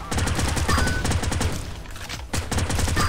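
Gunfire in the video game Gene Shift Auto comes as rapid, dense bursts of automatic shots, loud and nearly continuous, with one brief lull.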